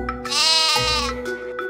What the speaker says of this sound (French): Et voici un petit mouton!